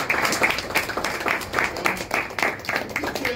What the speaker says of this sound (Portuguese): Vamos dar uma salva de palmas para esse irmão.